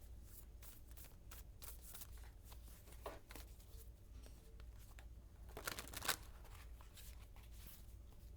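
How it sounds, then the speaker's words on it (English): A deck of playing cards is shuffled repeatedly near the microphone, a steady run of papery riffles and soft flicks with a louder riffle burst toward the end, quiet room, no talking. "I gotta put the phone down to shuffle my cards"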